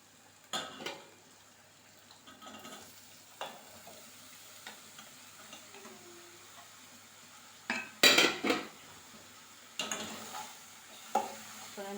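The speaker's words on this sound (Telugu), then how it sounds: "బీరకాయలు వేస్తాను ఇప్పుడు" Ridge gourd pieces go into a pan of fried ginger-garlic paste for a home-style Telangana curry, followed by scattered metallic scrapes and clanks of a spoon against the pan over a soft background sizzle.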